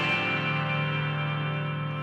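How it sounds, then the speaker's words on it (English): A single sustained chord from a song, blending acoustic guitar, piano, electric bass and electric 12-string guitar, rings out bright and full, then slowly decays over about two seconds. "it's an acoustic mixed with a piano, mixed with an electric bass, mixed with an electric 12-string, and that chord sounds like this"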